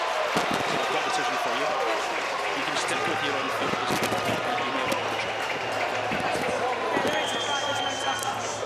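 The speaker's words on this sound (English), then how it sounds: "And the applause comes from around the ground because the crowd have seen it the same time as us." Crowd applause spreading around a rugby stadium after a try in a women's Six Nations match between Italy and Wales, a dense steady roar of clapping and cheering, with a commentator talking over it.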